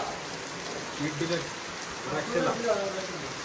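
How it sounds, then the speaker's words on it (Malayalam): Rain falls in a steady hiss beneath people talking, the voices rising and falling over the continuous wash of water. "ഓയ്യോ മോനെ മഴ"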